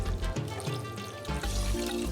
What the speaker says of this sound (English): This is like warm water, don't use cold. So I'm going to add it to this soup.